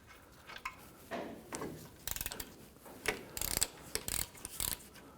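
A ratchet wrench clicks in quick repeated strokes, loosening a caliper bracket bolt on a Hummer H3 rear brake, with faint metallic handling noises between the bursts, close but fairly quiet.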